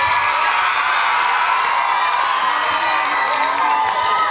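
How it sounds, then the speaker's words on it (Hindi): Loud, continuous cheering and applause from a school audience at an annual celebration of a primary and high school in Bidar, with children shouting and whooping throughout, steady and dense from start to finish. "जोरदार तालियां हो जाए हमारे अचीवमेंट के लिए"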